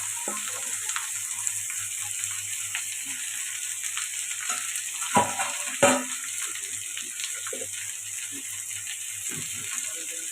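Chopped taro root pieces go into hot oil in a pan with ginger and garlic, giving a steady, moderate sizzle throughout with a couple of sharper stirring clatters midway.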